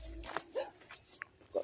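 A dog gives a few short, faint barks or yelps, spaced unevenly and heard quietly from some distance against a hushed background.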